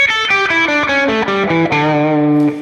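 A distorted electric guitar plays a run of single notes stepping through a scale, each note picked cleanly and evenly, loud and close, with no voices.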